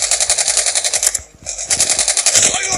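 Rapid automatic gunfire in the video game Call of Duty Mobile rattles in loud, tight bursts, briefly pausing before resuming.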